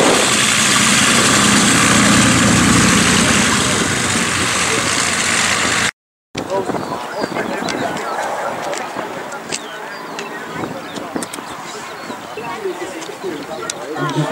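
A propeller aircraft engine runs at an airfield open day. The first part is a loud, steady roar. After a short break it continues more quietly and further off, with a voice talking over it.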